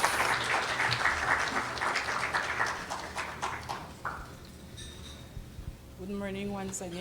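Audience applause at a women's award ceremony, a burst of clapping that fades after about four seconds, followed by quieter room noise and a voice speaking near the end.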